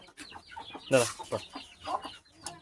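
Guinea fowl calling while feeding, a few short harsh clucking cries close by with scattered pecking and faint background voices.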